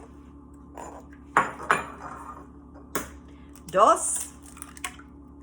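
Eggs are cracked one by one into a bowl of cream cheese: a few sharp taps on the rim, then a soft wet plop, while a voice briefly counts.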